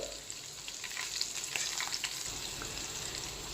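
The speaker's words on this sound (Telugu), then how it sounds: "ఇందులో కొంచెం జీలకర్ర సన్నగా చేసుకున్న ఒక మూడు పచ్చిమిరపకాయలండి" Cumin seeds and three finely chopped green chilies sizzle and fry in hot oil in a kadai for Andhra-style prawn fry, a steady close crackling hiss with faint stirring throughout.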